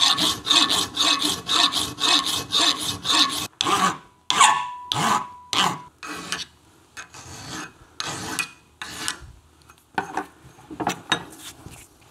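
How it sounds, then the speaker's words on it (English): Dreadnought file rasping across aluminum for a bike brake light switch mount, a rapid series of rough back-and-forth strokes, then slower, spaced individual strokes with short pauses, close and clear. "I've got a dreadnought file."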